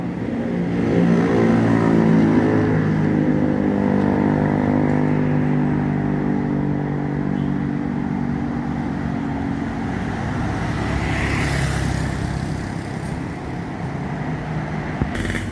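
An Al Ijra Tronton sleeper-class bus drives past, its engine rumbling loud and steady with rising drone, then fading slightly as it moves on amid roadway noise.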